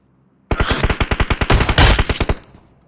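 Automatic gunfire in the mobile battle royale game PUBG Mobile, a rapid loud burst of about twenty shots over two seconds, close and dominant, ending abruptly.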